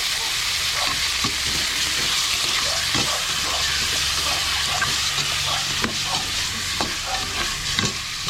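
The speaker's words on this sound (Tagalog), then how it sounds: "Gisa-gisa lang tayo" Ingredients for Ilocano tinola sizzle and fry loudly in a pan, a dense continuous hiss punctuated by occasional scraping stirs throughout, close up and with no talking.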